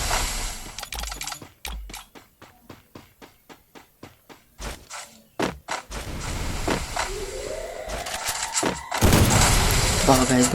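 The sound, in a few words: gunfire in a video game, AWM sniper rifle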